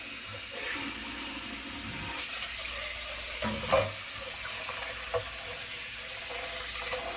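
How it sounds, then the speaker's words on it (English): Water runs steadily from a tap into a pot, a continuous rushing flow with a few soft clunks and splashes. "Add some cold water."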